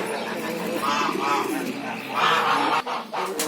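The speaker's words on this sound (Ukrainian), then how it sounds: "Зайшли кури і голуби, голуби." Chickens and pigeons in a Romanian farmyard in Cornești, Cluj, making soft clucks and coos with a few honk-like calls, fairly close, under quiet rustling background noise, with brief speech nearby.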